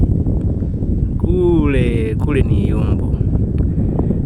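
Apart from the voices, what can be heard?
strong wind blowing into the microphone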